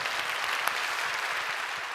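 A church congregation claps to bless the newly baptized during a Sunday service, a brief, even patter of applause from many hands.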